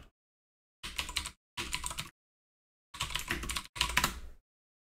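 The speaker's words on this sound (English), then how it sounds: "Now if I type" Typing on a computer keyboard while setting up a Discord bot: four short bursts of rapid, close key clicks, separated by silent pauses.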